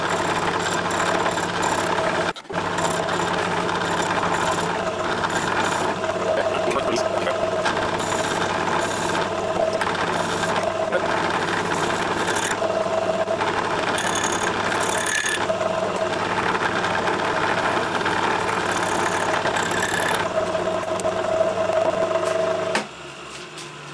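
A lathe turns a metal part down to 12 millimeters, with a steady mechanical whir and faint ratcheting, grinding texture that runs unbroken at close range for over twenty seconds before dropping away at the end.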